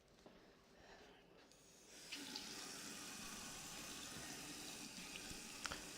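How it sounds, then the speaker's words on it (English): Tap water runs steadily as hands are washed in a kitchen sink, a quieter trickle at first and then a louder continuous flow with small splashes, close by and without talking. "wash my hands"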